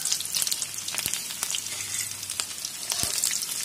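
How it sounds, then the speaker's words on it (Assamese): Onion, tomato, chilli, ginger and garlic fry in a wok for a pork kumbin dish, giving a steady close sizzle with a few sharp spatula clicks and no talking. "পিঁয়াজ, বিলাহী, জলকীয়া, আদা ৰচুন দি সুন্দৰকৈ ফ্ৰাই কৰি ল'ব"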